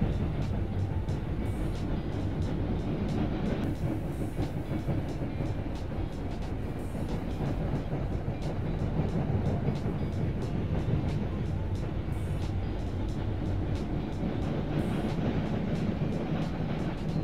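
The extra Jatiraja train from Cibendung to Patani runs straight through Luwingora station without stopping, a continuous loud rumble of wheels and carriages with faint clickety-clack, steady and close throughout, no voices.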